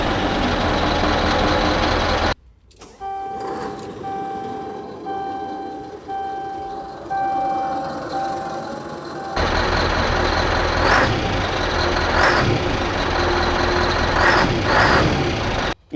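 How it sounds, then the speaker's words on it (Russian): A 2013 Scania R560 V8 Euro 5 truck with light tuning idles steadily, a deep even engine hum broken by a brief gap early on and then returning louder, with faint tonal whines and occasional clicks and no talking. "Сегодня у нас на обзоре будет Scania Евро 5 560 V8"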